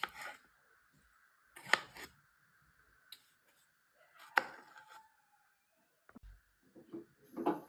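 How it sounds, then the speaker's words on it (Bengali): A knife chops green chillies and tomatoes with a few sparse, sharp cuts on a board, spaced a second or more apart, quiet and close, with faint kitchen noise between strokes. "এবার আমি লঙ্কাগুলো কেটে নেব একটু টমেটো কেটে নেবো"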